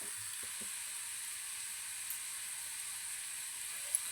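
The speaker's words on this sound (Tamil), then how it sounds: "வெங்காயம் பொன்னிறமாக வதக்கிட்டு நம்ம தாளித்து கொட்டினோம்னா ரொம்ப நல்லாயிருக்கும் டேஸ்ட்டு." Onions frying in oil for mutton paya give a steady, faint, even sizzle and hiss with no talking over it.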